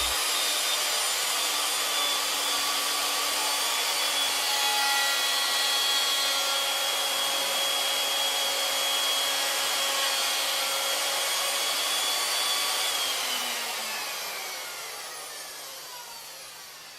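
A CNC machine mills a rope pattern into wooden balusters using gears, giving a steady, loud whine with a sustained tone that winds down toward the end, with no talking.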